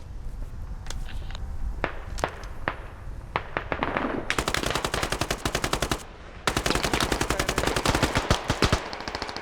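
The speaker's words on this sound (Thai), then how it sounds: "ไม่รู้นะผมยิงอัดไปก่อนนะ" Rapid bursts of gunfire in the game Squad, starting with scattered single shots, then long fast automatic volleys with a brief pause between.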